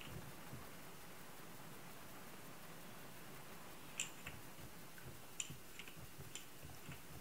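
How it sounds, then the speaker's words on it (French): Steady hiss of rain falling in a video game throughout, with a few faint sharp ticks and drips standing out near the end. "Il pleut dehors."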